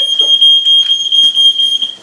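A smoke alarm set off by oven-baked steak beeps loudly in a steady repeating pattern of shrill, piercing chirps, up close and with no talking over it.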